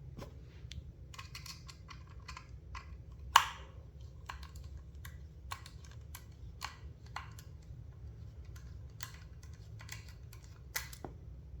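Small screws are worked out of a 2.5-inch laptop hard drive during a teardown. Faint, scattered metallic clicks and ticks of the screwdriver sound close by, with one louder tap, over a low steady hum and no speech.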